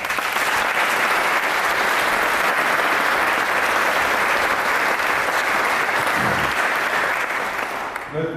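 Loud, dense applause from an audience at a sports school award ceremony, steady and sustained for several seconds before tapering off at the very end.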